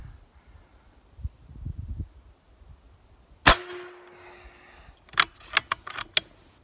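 A Benjamin 357 Bulldog air rifle shot strikes a target with one loud, sharp crack and a ringing metallic clang, followed by a quick series of lighter clicks and knocks after a quiet start.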